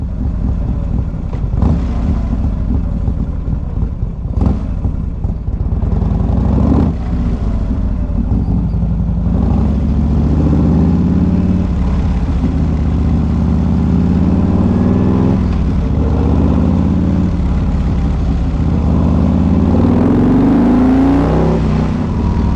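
A motorcycle engine drones steadily and fairly loud throughout, with shifting revs and bursts of acceleration over a continuous low rumble while riding.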